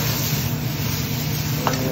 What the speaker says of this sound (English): Now we're going to add our sun-dried tomatoes